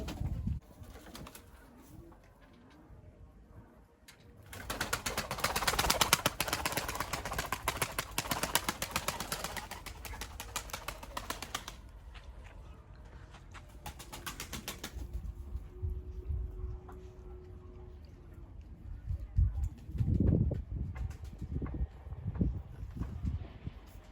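Pigeons in a coop, a new flock of kama paça ala birds, give low soft coos alongside scattered wing flaps and shuffling, with a burst of broadband flutter midway and rustling near the end.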